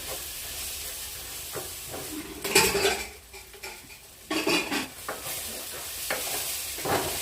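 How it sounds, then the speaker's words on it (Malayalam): Kerala-style beef fry being stirred in a hot pan, with a steady sizzle and several louder scraping bursts as the spoon turns the meat, close and continuous without talk. "നല്ലോണം ഇളക്കി കൊടുക്കാം"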